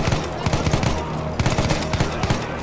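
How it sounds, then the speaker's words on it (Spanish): Automatic weapon fire in the World War I shooter Battlefield 1, loud rapid bursts of shots repeating in clusters with a continuous noisy battle backdrop. "¿Están disparando de dónde?"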